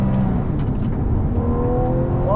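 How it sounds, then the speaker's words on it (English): A 350 HP Porsche 911 fitted with a 150 HP aftermarket hybrid system launches hard with wheel spin, its engine roaring up in pitch as revs climb steadily over a couple of seconds. "I got lots of wheel spin."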